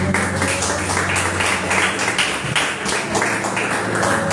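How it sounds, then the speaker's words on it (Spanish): A congregation at a church service applauds steadily, a dense sustained wash of clapping that stays loud and even throughout, with no pauses. "Denle un aplauso"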